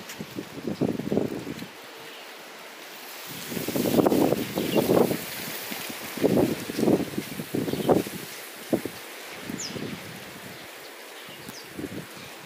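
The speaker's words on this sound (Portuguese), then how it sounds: "Vento." Strong wind blowing outdoors during a dust storm over a rural town, coming in loud gusty bursts that buffet the microphone, with quieter lulls between them.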